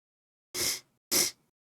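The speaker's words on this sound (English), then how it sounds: "Sneeze again." Two quick, breathy sneezes burst out about half a second apart, each short and sharp with a hissy, airy rush, alone against complete silence.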